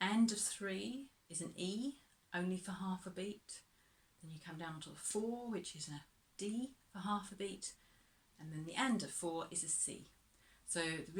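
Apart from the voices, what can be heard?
None of the usual background noises is heard.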